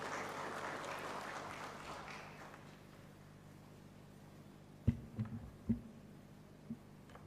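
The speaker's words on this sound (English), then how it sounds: "Let's give her a round of applause." An audience at a conference opening session applauds, the clapping strongest at first and fading out within a few seconds, followed by near silence broken by a few dull, isolated thumps.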